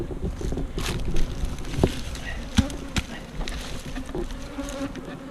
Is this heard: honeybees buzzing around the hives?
yes